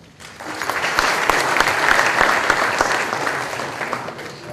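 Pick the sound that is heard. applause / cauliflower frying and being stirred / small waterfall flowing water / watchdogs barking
applause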